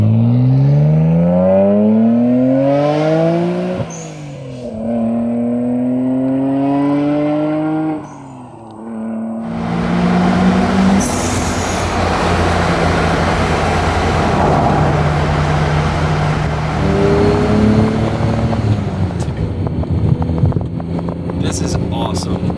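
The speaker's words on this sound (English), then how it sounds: "I can't believe I'm driving Paul Walker's R34 Skyline GTR." A Nissan Skyline GT-R R34 driven on the road, its engine revving up through the gears in rising, falling sweeps, then a burst of heavy acceleration with loud wind rush and road roar. The engine is close and dominates throughout, with no audible talking.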